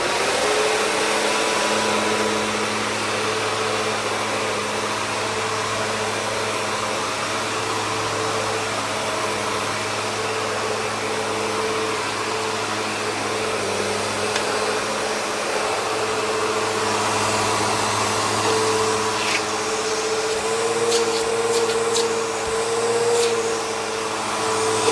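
A Victory vacuum cleaner motor running steadily, a loud constant whine and hum that holds for the whole stretch without voices.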